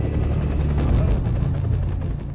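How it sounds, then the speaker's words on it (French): Gendarmerie high-mountain rescue helicopter departing at nightfall near Chamonix, a loud, steady rotor and turbine roar that dominates the scene, close by and continuous throughout. "En début de nuit, l'hélicoptère repart."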